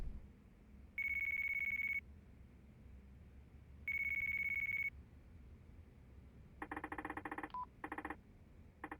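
A phone in Yakuza 4 Remastered rings twice in steady electronic bursts over a quiet background, followed by quicker repeated beeps and tones.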